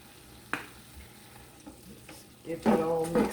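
Cajun-seasoned ground meat frying in a Power Pro XL multicooker, stirred with a few scraping strokes, a soft quiet sizzle underneath, then a louder burst of stirring and sizzling near the end.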